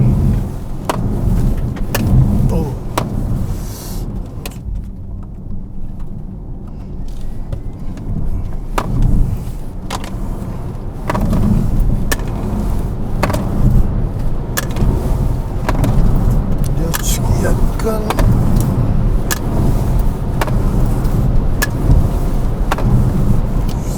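A Hyundai Ioniq 6 N electric car driving continuously, a steady low road and motor rumble with repeated sharp clicks and thumps, quieter for a stretch before building again.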